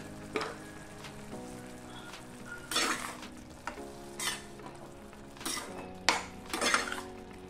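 Sorrel leaves and tomato pieces stirred in a pan for green sorrel tomato chutney, a spoon scraping and clinking against the metal in several separate bursts over a soft frying sizzle, close and fairly loud.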